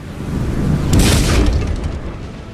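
Cannon fire from warships in the naval battle game Empire: Total War booms as a deep, rolling blast that swells and fades over a couple of seconds, heavy and close.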